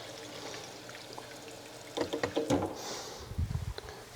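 A cup of water is poured into a container of oil for garlic scape pesto, a brief gurgling pour near the end after faint handling sounds.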